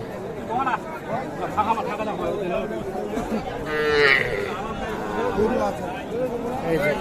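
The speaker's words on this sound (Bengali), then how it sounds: "এইখানে আমরা দেখছি দুইটা বাছুর" Calves and cattle at Setabganj livestock market give occasional moos amid a busy crowd, with people talking close by over the general babble.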